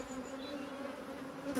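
Steady, droning hum of a honeybee colony during queen supersedure, close and continuous with a faint rise at the very end; no talking.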